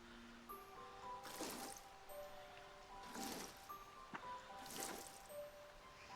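Watering crops in Fae Farm: three evenly spaced bursts of splashing, sprinkling water, each about half a second, over soft game music with gentle chiming tones.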